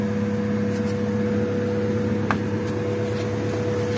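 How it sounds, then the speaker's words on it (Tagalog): A Honda Civic EG hatchback's D15B SOHC engine idles with a steady hum, a thin, constant whistling tone riding on top, plus a few faint ticks. "Para siyang whistling."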